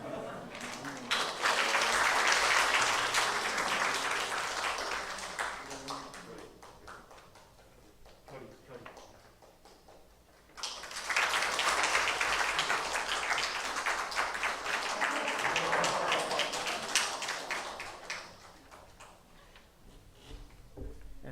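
A church congregation gives two rounds of applause as a blessing during a Sunday worship service, each a dense sustained swell of clapping lasting several seconds, filling the room from near and far, with a voice speaking around it.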